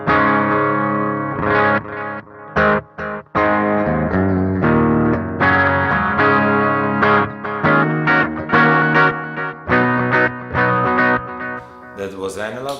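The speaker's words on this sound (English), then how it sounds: "That was analog, echo." Electric guitar played through a Mooer Red Truck multi-effects pedal on its analog echo delay setting, loud sustained chords and notes trailing into repeating echoes and slight distortion.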